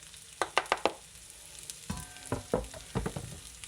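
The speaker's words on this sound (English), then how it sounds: "if you can hear the sizzle, it's a wonderful thing" Meatloaf mixture sizzles in a hot pan with a steady frying hiss, broken by a series of sharp crackles and pops, first a quick cluster then scattered bursts, close and moderately loud, with no talking.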